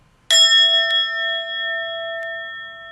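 A single bell struck once, ringing with a bright clear tone and long sustaining decay, used like a tuning fork as an external tuning reference; faint extra taps sound during the fade, with no talk over it.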